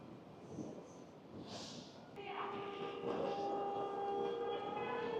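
A regional train arrives at a station in Oslo: a low rumble swells after a sharp click, joined by steady high whining tones from the motors, moderately loud and growing.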